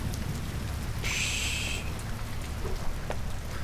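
Steady rain, mixed with some hail, falls outdoors at a race circuit, a constant close hiss and patter with one brief brighter whooshing burst partway through.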